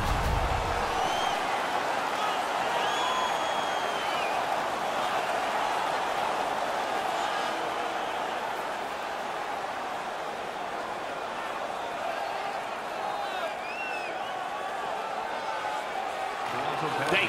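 Hockey arena crowd roaring in a sustained wall of cheering after a fight during a Toronto Maple Leafs vs Detroit Red Wings game, loud and steady throughout with whistles and shouts poking through.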